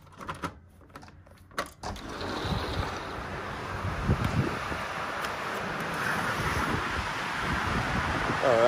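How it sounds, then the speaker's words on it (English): Strong wind buffets the microphone outdoors at a lodge patio at Big Bear Lake, California, a steady loud rumbling roar that swells toward the end, with a couple of sharp knocks near the start. "It's so windy out here"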